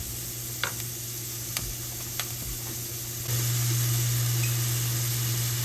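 Onions fry in oil in a pan with a steady hiss, a few spoon taps early on, then the sizzle grows louder and fuller partway through.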